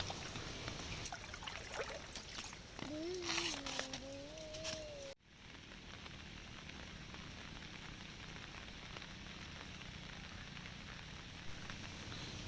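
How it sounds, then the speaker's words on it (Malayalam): A stream swollen with rainwater flows steadily beside paddy fields in Kerala, a continuous broadband rush heard alone at moderate level, with a brief tonal whistle-like sound partway through before an abrupt drop into a smoother steady wash. "തോടിൽ വെള്ളം നിറഞ്ഞ് ഒഴുകാൻ തുടങ്ങി"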